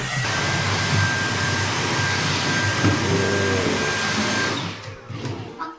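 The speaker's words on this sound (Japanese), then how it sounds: "お、掃除機あるのかこの家。" A cordless vacuum cleaner runs with a loud, steady whine in a cluttered family home, then cuts out near the end as its battery dies.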